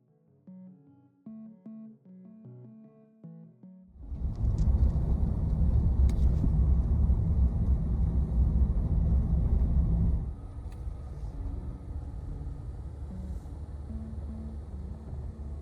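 A minivan pulls away and drives on, its steady low engine rumble and road noise rising suddenly after quiet music, then continuing a bit softer, close and without any talk.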